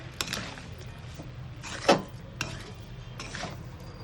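Daliya pulao ingredients, broken wheat seasoned with salt and sugar, being stirred in a pot: a few soft scrapes and light clinks, faint and close, with no talking.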